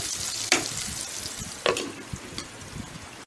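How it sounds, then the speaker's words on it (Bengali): Onions frying in a covered pan over low heat give a steady soft sizzle, close by, with a few brief louder crackles breaking through. No one speaks. "হ্যাঁ, পেঁয়াজটা ভাজা ভাজা হয়ে গেছে, ভাজা হয়ে গেছে।"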